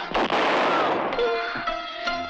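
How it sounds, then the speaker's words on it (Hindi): A firecracker pistol fires with sharp cracking pops close by, followed by a lingering, ringing tonal tail. "ये पटाखे चलाने वाला पिस्तौल है"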